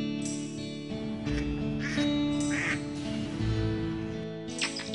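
A cartoon duckling quacks in a children's story, with several bright, nasal calls over a steady bed of background music.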